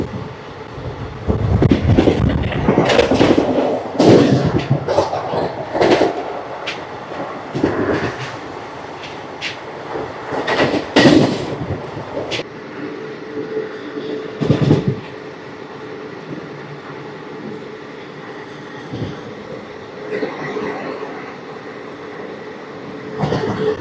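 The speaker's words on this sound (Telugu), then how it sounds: "Skipping Chebrolu railway station." Ratnachal Express (12718) running through Chebrolu railway station without stopping, heard from on board as a loud steady rumble with a burst of rapid wheel clacks early on, easing to a quieter continuous roll.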